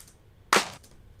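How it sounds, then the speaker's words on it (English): A single giant clap drum sample, dry, lands as one sharp, bright snap with a short reverb tail that quickly dies into near silence. "Giant clap."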